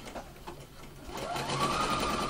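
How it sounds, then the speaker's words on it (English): A sewing machine zigzag stitching along the seam allowance of fabric, running in a brief, steady mechanical whir that grows slightly louder toward the end. "I now have zigzagged my seam allowance"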